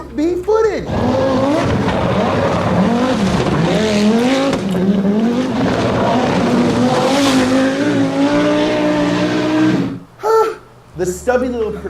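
Group B rally cars, including an Audi Quattro, race flat out with loud, continuous high-revving engine roar rising and falling through gear changes, with tire noise, before cutting to brief bursts near the end.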